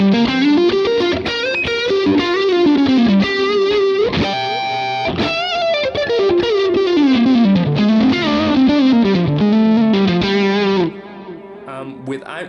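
An electric guitar runs through a Vox AC30 Top Boost amp model on a Line 6 Helix, playing driven, chorused melodic lead lines with bends and a brief strummed chord, loud and close with no talking, ending on a quieter sustained note.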